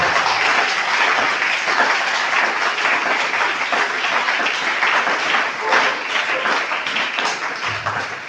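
Loud, sustained applause from a congregation at a church service, dense continuous clapping that fills the whole stretch and tapers slightly at the close.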